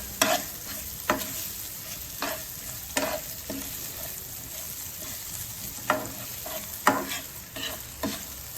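Chopped onions frying in a pan until brown, a soft continuous sizzle broken by repeated scraping stirs of a spoon at irregular intervals, close and fairly quiet with no talk.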